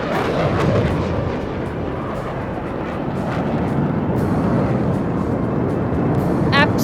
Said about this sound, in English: a single Rafale aircraft flying at a speed of 900 kilometers per hour, carrying out a vertical Charlie